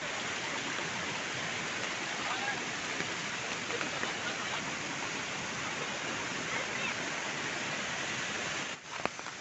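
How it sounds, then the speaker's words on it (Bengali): Steady, dense rain hisses close by under an umbrella near the Jhinkra waterfall in Saranda Forest, a broad unbroken wash of falling water that runs the whole time, with a brief rustle and dip near the end. "এখানে একদম ছাতার মধ্যে আছি বৃষ্টিতে"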